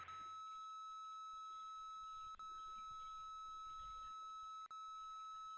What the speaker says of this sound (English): I'm sorry for the annoying beep